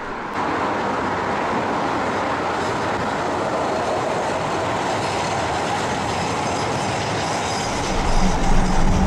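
A Tyne and Wear Metro train runs along the rails over a viaduct bridge, giving a steady, loud rolling rumble and rail noise that swells slightly near the end, with no voices.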